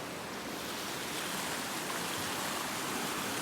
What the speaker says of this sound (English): I'm up pretty early this morning checking on the creek.